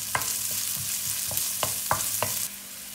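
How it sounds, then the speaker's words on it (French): Broken dried chili pieces sizzle in a hot pan as a utensil scrapes and stirs them in repeated clicks, steady frying hiss underneath that softens near the end. "je les casse en plusieurs petits morceaux et je fais revenir le tout pendant quelques minutes"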